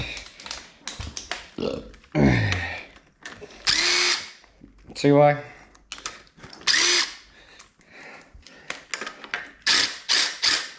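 Short bursts of a power drill whirring and ratcheting up close during a top-end teardown of a 327 small-block Chevy engine, starting and stopping irregularly, with someone speaking briefly in between.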